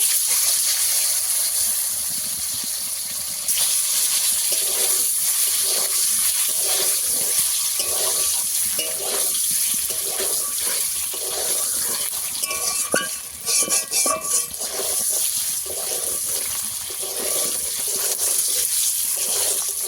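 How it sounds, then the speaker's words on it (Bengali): Eggs hit hot oil in a pan and sizzle continuously for a long stretch, a loud dense crackling hiss with occasional stirring scrapes and pops, no talking. "তেল ভালো করে গরম হয়ে গেছে, ডিম দিয়ে দেব।"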